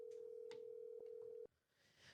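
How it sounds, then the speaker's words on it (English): An outgoing telephone call rings as a steady electronic tone on the line, cutting off abruptly partway through and leaving faint background noise. "We're calling Nitra."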